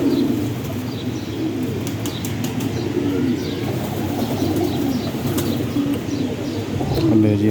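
Pigeons in a loft, including a large female, make low, repeated cooing over a busy background of fluttering wings, chirps and murmuring voices, all fairly loud and close.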